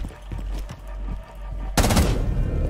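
A sudden burst of loud, rapid gunfire erupts in the tactical shooter Rainbow Six Siege, following softer in-game footsteps and thuds, with the shots dense and close.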